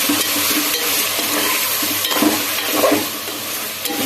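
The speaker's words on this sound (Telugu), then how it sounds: "మళ్ళీ ఇప్పుడు ఇంకోసారి కలబెట్టుకున్నాం." Sambar ingredients sizzle in a hot cooking pot while being stirred. A steady, loud frying hiss carries throughout, with soft scraping strokes from the stirring rising now and then.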